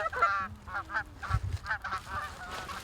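A flock of Canada geese honks in flight over a decoy spread, with repeated overlapping calls that stay fairly close and loud for the whole stretch, with no talking.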